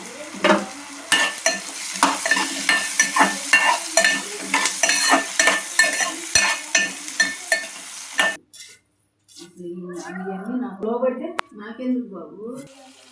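A spoon scrapes and clinks rhythmically through drumstick curry with salt in a sizzling pan, close and busy for several seconds, then stops as a voice speaks.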